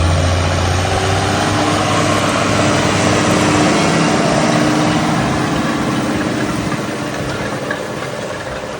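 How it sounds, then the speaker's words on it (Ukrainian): A loud, steady diesel engine of a John Deere 6930 tractor pulling a 4-metre Lemken Smaragd 9 disc cultivator drones close by, with a broad rumbling roar that holds constant and fades slightly toward the end. "так працює Ленкен Смарагд 9 4-метровий з трактором John Deere 6930"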